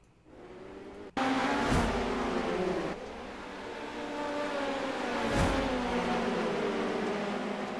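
Midget race cars roar loudly and continuously on a dirt oval, engines swelling as cars surge past up close, with a sharp jump in level early on and two pass-by peaks.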